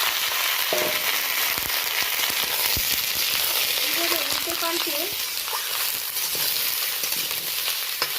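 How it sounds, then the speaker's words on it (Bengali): Ridge gourd pieces fry in hot mustard oil with a constant close sizzle. Scraping, clicking stirring strokes and a faint voice run through it. "এইভাবে উল্টে পাল্টে নেড়ে চেড়ে বেশ ভালো করে আমি 3-4 মিনিট ধরে একটু ভাজা ভাজা করে নেব"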